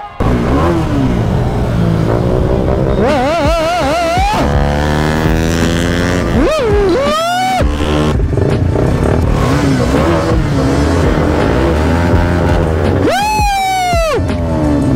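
A motorcycle on a Sunday ride from Pune to Malshej revs loudly and close by. The engine note climbs and falls in repeated surges as it shifts and accelerates.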